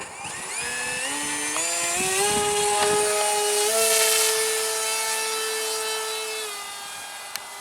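An electric RC Depron F-100 Super Sabre propjet takes off into a light headwind. Its motor whines loud and close, climbing steadily in pitch, then holds a high, even buzz before easing slightly as it pulls away, with no voices.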